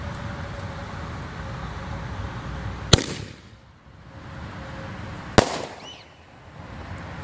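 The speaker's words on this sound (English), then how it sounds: "That was a ball shell." Fireworks ball shells from a canister shell demo bursting outdoors, with two sharp loud booms about two and a half seconds apart, each fading into a crackling decay over a steady background hum.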